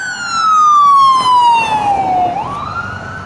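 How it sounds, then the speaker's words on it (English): Ambulance siren on a city street, a loud wailing tone sweeping slowly downward then rising again as the vehicle passes close by, with traffic rumble underneath and no talking. "Ambulances can be loud."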